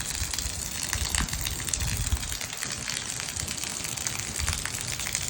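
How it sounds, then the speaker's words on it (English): Rain falls steadily as an even, unbroken hiss with faint patter, moderately close and heard alone without speech. "It's raining."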